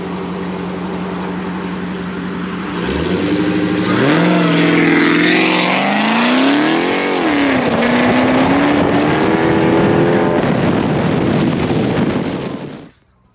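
A Dodge Charger, called a Demon 170, drives off close by, its engine rising in a sweeping rev with a gear change and then holding a strong steady drone before cutting off abruptly.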